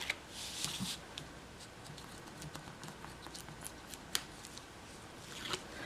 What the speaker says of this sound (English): we're going to go ahead and tear off the backing